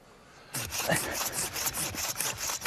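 Rhythmic back-and-forth strokes of a hand saw cutting through wood, steady and close, starting after a brief quiet moment.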